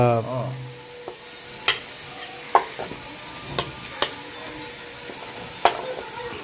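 Beetroot varai being stirred and fried in a pan in Jaffna-style home cooking, a steady sizzle with a series of sharp spoon scrapes and taps against the pan, fairly close, with no talking.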